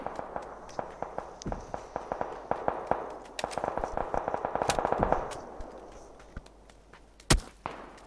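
Rapid gunfire in the PUBG battle game, bursts of sharp shots cracking in quick succession with a louder single blast near the end, no talking.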